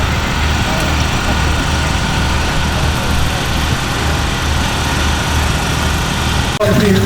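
Early commercial steam vehicle on solid tyres running at the Parham Steam Rally, a steady low mechanical chugging rumble held throughout, with a brief clank near the end.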